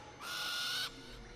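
An owl hoots in the prehistoric game Far Cry Primal, a single sustained, clear call lasting under a second, close and prominent over quiet game ambience, with no talking.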